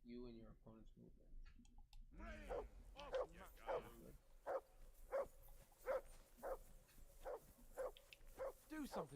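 A dog barking in the medieval video game Kingdom Come: Deliverance II, a run of evenly spaced, fairly close barks after a few brief voice sounds at the start.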